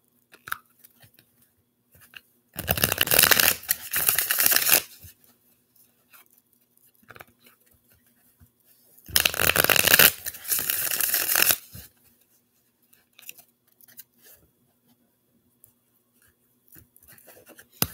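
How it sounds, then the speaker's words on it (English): Two separate bursts of tarot cards being shuffled by hand, each a couple of seconds of rapid riffling and flicking, close and fairly loud, separated by quiet pauses. "we're going to shuffle the tarot"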